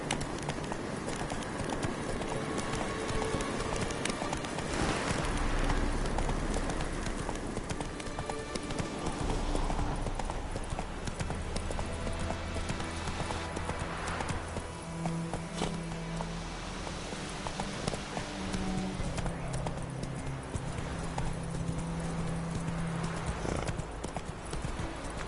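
A horse in The Witcher clip-clops along at a brisk, steady rhythm, hooves loud and close over a dense game soundscape for the whole stretch, with a brief voice urging it on.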